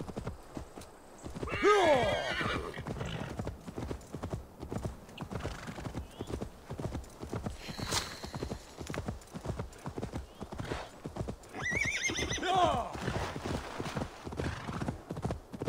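Rapid hoofbeats of a galloping horse in Assassin's Creed Valhalla run steadily throughout, with two loud neighs, one early and one near the end.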